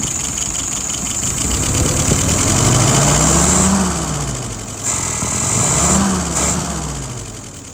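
Car engine fitted with a Carter WO 539S carburetor runs steadily and loud, with two slow rises and falls in revs over a constant idle rumble and a faint knock.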